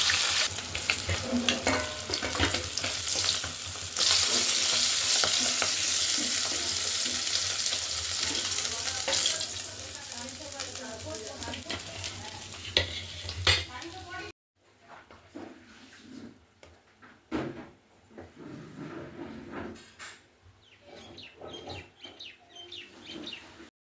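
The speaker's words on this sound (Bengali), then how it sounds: "তারপরে মাছটিকে ভালো করে ভেজে নিয়ে তুলে দিতে হবে" Fish frying in mustard oil in a hot wok: a loud, steady sizzle for the first half, then quieter, broken spitting with scattered clicks and stirring. Faint bird calls sound in the background.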